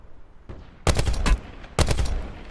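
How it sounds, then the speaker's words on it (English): Two sharp bursts of rapid automatic gunfire in a first-person shooter battle royale match, loud and close, separated by a short pause. "I got a lot of shooting from the north"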